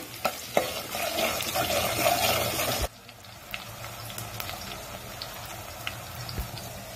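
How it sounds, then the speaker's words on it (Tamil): Finely chopped small onions, fifteen of them, stirred and sautéed in a pan for an egg and dried fish curry, with a steady sizzle and scraping stirs that drop sharply quieter partway through. "ஒரு பதினஞ்சு சின்ன வெங்காயத்தை பொடிசா கட் பண்ணி வச்சிருக்கேன் அதை இப்போ நம்ம இதில் சேர்த்துடலாம் சேர்த்து நல்லா வதக்கிடலாம்"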